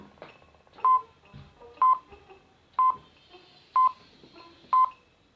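Five evenly spaced keypad tones beep one after another, each short and bright, over a faint, quiet background.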